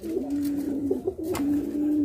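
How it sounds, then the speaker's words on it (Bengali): Fancy pigeons of an expensive ornamental breed coo in a steady, close, low throaty rolling call that continues through the moment with brief swells, heard alone without talk. "এখানে এক জোড়া কবুতর দেখতে পাচ্ছেন কালো রক্ষা কবুতর"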